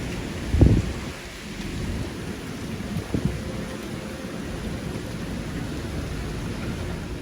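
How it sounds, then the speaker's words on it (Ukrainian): Heavy Hawaiian tropical rain pours down steadily, with a deep thunderclap rumbling early on and a softer one a few seconds later. "Цікаво, чи та злива надовго."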